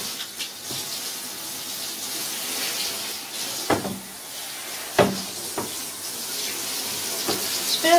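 Tap water runs steadily into a sink or tub to wet a small dog for a wash, with a few knocks and clatters from handling over the flow and faint voices in the background.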